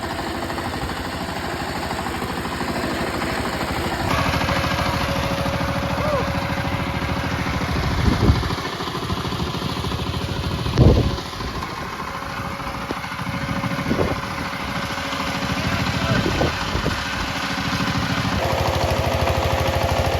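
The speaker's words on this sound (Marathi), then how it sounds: "तिथनं मशीन एकदम घासाघाशी करत आले वर" A loud tractor engine chugs and strains continuously, with a few sharp knocks and thumps as the tractor labors through deep mud.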